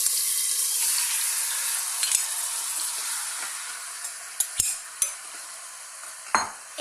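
Chicken pieces hit hot ghee in a pan and sizzle loudly, a continuous frying hiss that slowly settles, broken near the end by several sharp clinks and scrapes of stirring.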